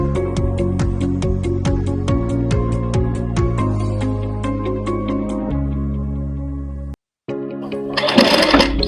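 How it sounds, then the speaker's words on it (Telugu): A sewing machine stitches along the edge of a blouse patch, giving a steady run of rapid needle strokes for several seconds. Near the end it stops briefly, then restarts in a short burst. "మన ఎడ్జ్ని స్టిచ్ చేసుకుంటూ రావాలండి"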